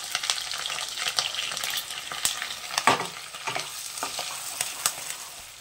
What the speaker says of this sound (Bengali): এই তেলে দিয়ে দিচ্ছি চিংড়ি মাছ।